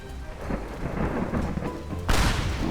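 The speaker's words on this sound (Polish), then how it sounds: "Ej, piorun walnął w drzewo." A deep rumble of thunder rolls under steady rain in Minecraft, then a sharper, louder crack bursts in near the end as lightning strikes a tree.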